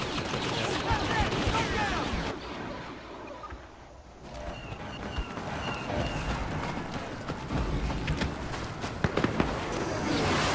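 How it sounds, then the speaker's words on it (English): Turbolaser blasts from a Walker Assault match on Sorosuub Centroplex in Star Wars Battlefront, a dense barrage of booming shots and crackling bursts over constant battle noise, with a few sharp hits near the end. "God, these turbo lasers are super annoying."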